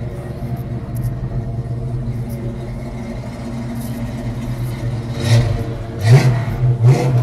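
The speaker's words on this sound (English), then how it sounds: "hit the gas one more time" A Chevy big-block engine idles with a low rumble, then is revved in a few short, throaty bursts near the end.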